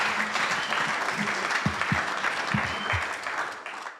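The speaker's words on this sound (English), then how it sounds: "Round of applause for those guys." A room of coworkers at a team meeting breaks into steady applause that holds for the full few seconds, many hands clapping densely before starting to thin at the end, with a few louder nearby claps.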